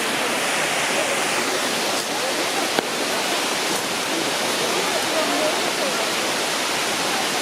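A waterfall near Zagreb pours with a steady, loud, broadband rush of falling water that stays even throughout and sits close to the listener, with no clear talk over it.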